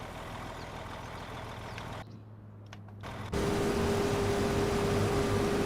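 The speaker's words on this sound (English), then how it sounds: "this truck is loud" A loud truck engine runs steadily, briefly muffled partway through before returning louder with a constant drone and a faint tonal whine, with no talk.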